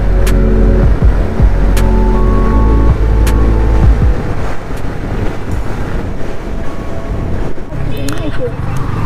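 A car cruises on a highway with a loud, constant road and engine rumble and heavy wind buffeting the microphone, plus a few sharp clicks and knocks near the end.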